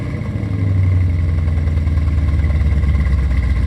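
A C4 Corvette engine idles steadily after its first start in years, a close, continuous low rumble with a slight uneven pulse hinting at a misfire.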